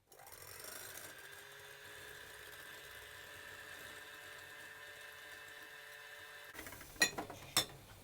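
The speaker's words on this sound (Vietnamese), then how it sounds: "Mình sẽ đánh bông cái trứng này lên." An electric hand mixer whisks a single egg at its middle speed, a steady motor whine running alone for several seconds before stopping, followed by a few sharp knocks of the beaters.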